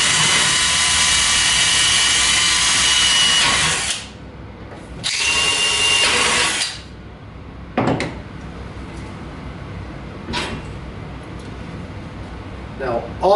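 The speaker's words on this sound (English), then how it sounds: "So we're going to drill those out as well." A power drill bores out rivets holding the drive bays of a PC case, a loud sustained whine with two long bursts separated by brief pauses, then quieter scattered clicks and knocks of handling afterward.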